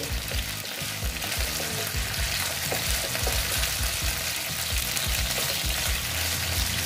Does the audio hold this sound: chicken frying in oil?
yes